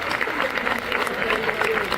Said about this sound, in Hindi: भाई एक बार जरा जोरदार तालियां बजा दो साहब।